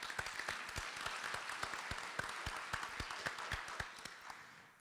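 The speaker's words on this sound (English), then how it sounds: "we should give everybody in this room a round of applause for all of your hard work" Audience applause fills a conference plenary hall, a dense steady wash of many hands clapping with sharper individual claps poking through, holding throughout before tapering slightly at the end.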